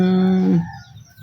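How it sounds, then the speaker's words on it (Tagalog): A single chicken call rings out briefly and clearly up close, then fades into quiet background noise. "Yung mga alaga kong mga manok"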